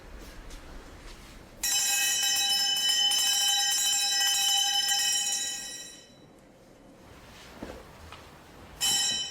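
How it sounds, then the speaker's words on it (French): Bell rung at Eiheiji temple to call young priests to meditation: a bright, sustained ringing tone lasting several seconds before fading, then returning briefly at the end, over a quiet hall background. "Quand Miyazaki est prêt pour la méditation, on sonne une cloche, afin de réveiller les jeunes prêtres."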